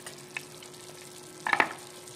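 Coconut milk frying in a pan for ginataan kalabasa gives a soft, steady sizzle, with a brief bright clatter of utensil on pan near the end.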